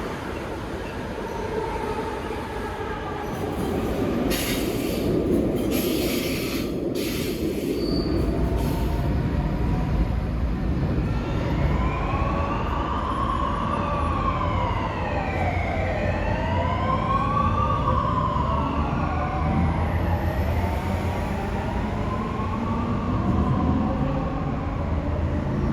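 A CP Lisbon suburban train at a station, with rumbling wheels and rising, falling squeals of wheels and brakes, loud and close, plus a brief high tone near the start and no voices.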